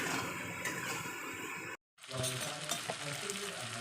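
Potatoes sautéing in a home kitchen pan give a steady loud sizzle, briefly cut by a moment of silence, then resume with stirring clinks and scrapes.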